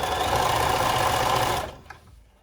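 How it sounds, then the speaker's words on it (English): A sewing machine stitches along a scrunchie seam, humming and chattering steadily up close for about a second and a half before stopping, followed by a few faint handling clicks. "I'm going to stay on that line that I have stitched before and sew down the length of the seam"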